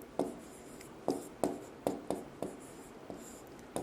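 Writing on a board during a Class 8 science lesson: a steady run of sharp, evenly spaced tapping strokes sounds close over a faint room hiss, with no one talking.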